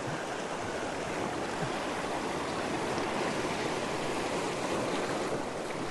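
Sea waves washing over a shoreline, a loud, continuous broadband rush of surf with wind, close to the microphone and steady throughout, no voices.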